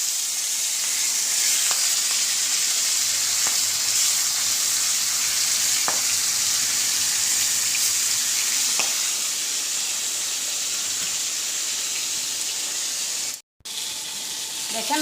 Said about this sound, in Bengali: তবে আমি সব মাছ ভেজে নেব।